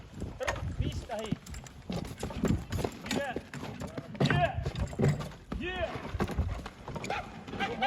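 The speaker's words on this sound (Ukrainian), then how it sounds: "Сьогодні знову в сани, запрягли гніду, будемо їхати по солому" A harnessed bay draft mare pulling a sleigh to fetch straw in winter, with steady close hoof thuds and sleigh runner scrapes as someone talks over it throughout.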